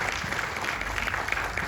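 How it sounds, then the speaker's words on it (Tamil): A press-conference audience at a film screening gives applause for Diwan, a short steady patter of clapping heard at a moderate distance, with no break in the sound. "அதுக்கு வந்து நம்ம எல்லாரும் திவானுக்கு ஒரு கைத்தட்டல் கொடுக்கணும்"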